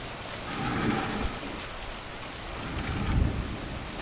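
A thunderstorm in Wyoming, with steady heavy rain pattering on surfaces and a low rumble of thunder swelling near the end, continuous and fairly loud with no voices.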